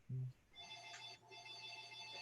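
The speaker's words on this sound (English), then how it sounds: "Somebody should answer the phone." Telephone bell ringing in a city-county planning committee meeting, a steady electronic ring with a low hum throughout, fairly faint and heard alone without talk.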